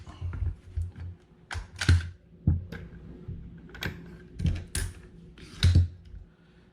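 Takedown pins are pushed and pulled from a CMMG Banshee 9mm AR-15, giving a series of close, sharp metallic clicks and small handling knocks spaced irregularly over quiet background.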